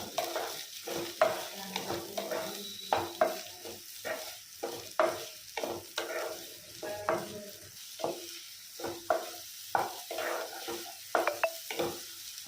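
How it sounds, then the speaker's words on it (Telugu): Chopped onion and green chillies fry in hot oil for a tomato curry, a soft steady sizzle broken by repeated scraping stirs of a spoon in the pan, close and moderately quiet. "ఆయిల్ వేడయ్యాక మనం కట్ చేసుకున్న ఒక ఉల్లిపాయ 4 పచ్చిమిరపకాయ ముక్కల్ని వేసుకుని బాగా కలుపుకోవాలి."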